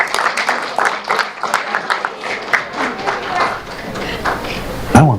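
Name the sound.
applause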